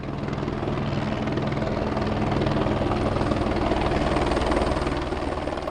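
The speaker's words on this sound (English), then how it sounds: "That's the sound of a helicopter flying over the Hudson" A helicopter flies over the Hudson River, its loud, steady rotor thump and engine drone continuing unbroken with a slight swell in the middle.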